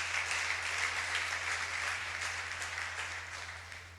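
A church congregation applauding and cheering for Jesus Christ, a dense, continuous wash of clapping that stays full and steady before easing slightly toward the end, with a low hum underneath.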